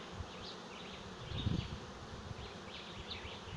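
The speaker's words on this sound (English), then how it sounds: "But I did say it wasn't a huge swarm, but it's a nice size swarm." A modest honey bee swarm buzzes around a bucket swarm trap, a faint continuous hum with individual bees passing close now and then.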